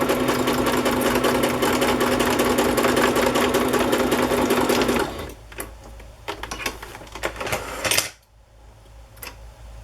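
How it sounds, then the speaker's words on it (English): A sewing machine stitches across the top of a wallpaper Polaroid-style paper collage, running as a steady, fast, close whir for about five seconds before stopping, followed by quiet handling and light rustling. "I'm just going to sew across the top here so this doesn't"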